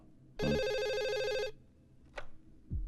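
A telephone rings in one loud, bright electronic burst lasting about a second, followed by a short rustle and a low thump, with no one speaking.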